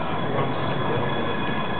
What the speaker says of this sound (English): The train is here. The train has arrived